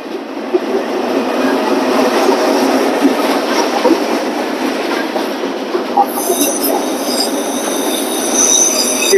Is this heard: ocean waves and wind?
no